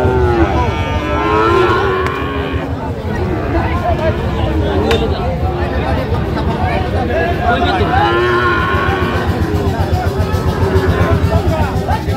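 Bull calves, crossbred, mooing at a busy cattle market, several drawn-out loud moos over a constant crowd babble and people talking nearby.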